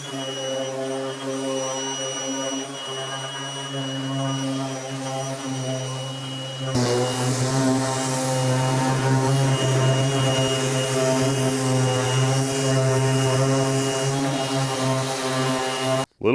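A power sander running steadily on wood with coarse 40 grit sandpaper, a loud continuous motorized whine and hum that steps up in intensity partway through as it bites harder, then cuts off abruptly at the end.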